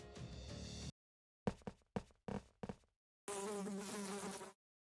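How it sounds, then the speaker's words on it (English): Insect wings buzz in the video game Death end re;Quest, a loud close whirring burst, then several short clipped knocks or taps, then another sustained buzzing drone before cutting off. "It sounded like wings buzzing. Maybe a fly was past your ear or something."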